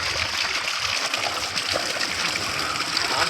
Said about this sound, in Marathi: हे बघा, एक सर येऊन गेले ना की मग हे छोटे धबधबे असे चालू होतात